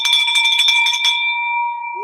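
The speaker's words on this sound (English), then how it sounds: "Let's ring that bell." A small bell rings once with a bright metallic strike whose clear overtones sustain and slowly fade, heard alone and close.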